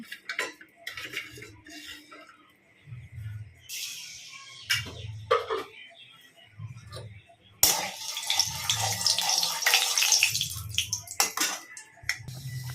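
Mutton curry with onion paste coming to a boil in a pot, heard as a steady run of soft, rhythmic low bubbling thumps with scattered metallic clinks of utensils close by, growing busier and louder toward the end.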